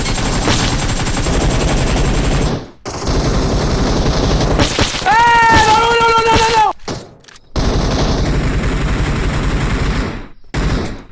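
Sustained bursts of gunfire in the battle-royale video game PUBG, loud and dense, cut off by short gaps, with a brief voice-like tonal passage in the middle.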